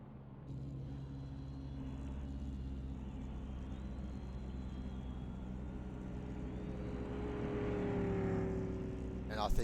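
Race car, a BMW in a 2.4-hour endurance race at Spa, leaving the pit lane: a distant, steady engine drone and rumble rising in the last seconds as the car accelerates away, with faint background noise.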